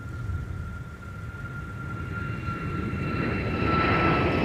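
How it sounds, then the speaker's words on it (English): Southwest Boeing 737 MAX 8 jet departing runway 30 Left at MSP airport, its engine roar steady and distant with a whining tone, slowly growing louder toward the end. "Here's Southwest with a max 8 departing 30 left."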